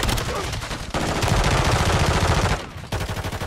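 Rapid, loud shotgun blasts in Call of Duty MW3 multiplayer on the Stash House map, a dense burst of repeated gunfire with a brief pause before a few more shots.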